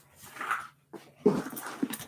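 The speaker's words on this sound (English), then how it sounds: "It's a dog." Dog whimpering in short, faint whines and breathy sounds, broken by brief pauses, quiet and nearby.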